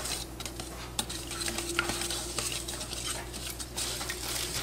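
Wet ingredients for a carrot pineapple cake batter being stirred in a bowl, a continuous soft scraping and sloshing with light utensil clinks throughout, close and moderately quiet, no talking.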